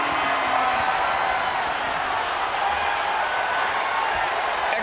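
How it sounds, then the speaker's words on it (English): Crowd roaring in a WWE wrestling video game, a dense continuous arena roar with scattered cheering and clapping, steady and loud throughout. "I feel the roar of the crowd just gets louder every trip we make out here."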